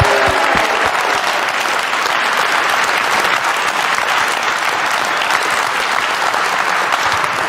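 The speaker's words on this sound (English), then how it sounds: "can you give Shane a round of applause" Loud, sustained applause fills a pool arena for Shane van Boening after the 2021 World Pool Masters final, a dense, steady roar of clapping from a large crowd lasting several seconds without break.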